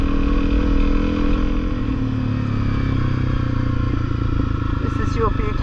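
A motorcycle rides a rocky gravel outback track on the Buchanan Highway in Australia's Northern Territory, its engine droning close and steady with clattering from the stones, partly under speech.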